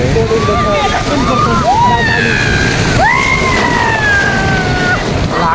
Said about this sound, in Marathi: लाटा जोरात येतो ते.